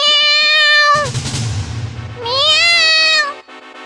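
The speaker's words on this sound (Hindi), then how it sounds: "इतने में वहां पर बिल्ली आ गई।" A cat meows loudly twice, long drawn-out cries separated by a brief scuffling, rustling noise.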